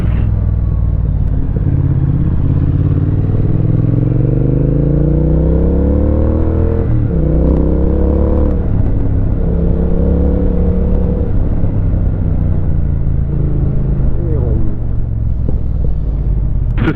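A Triumph Bonneville motorcycle accelerates hard up a hill, its engine rumbling loud and close with rising revs and gear changes over a steady, continuous drone.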